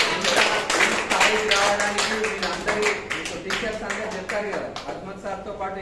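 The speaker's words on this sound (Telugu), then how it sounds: "అందరు ఒక్కసారిగా క్లాప్స్ కొట్టండి" Students at a school clap together, a loose burst of individual claps with distinct sharp hits, while a voice speaks over the clapping throughout.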